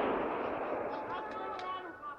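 A gunshot on a St. Stephen's Day hunt in 2012: a loud crack at the start with a long outdoor rolling echo, as voices begin talking over the fading tail.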